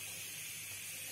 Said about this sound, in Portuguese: Agora tá fritando o alho.